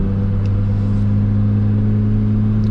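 The engine of a naturally aspirated Lotus Exige S2 drones steadily while driving, a loud, close, constant low hum with strong tonal bands and no speech.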